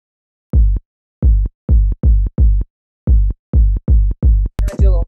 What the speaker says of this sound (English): I'm gonna start with the kick drum.